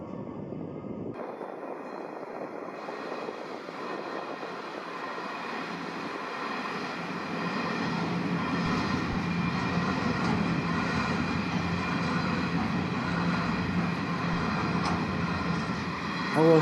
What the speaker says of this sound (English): Another large diesel-electric Pacific National freighter, a large Australian company that operates throughout all states.